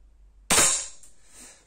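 A single low-power 4 joule air rifle fires once, a sharp close crack with a short hissing tail, alone against a quiet background.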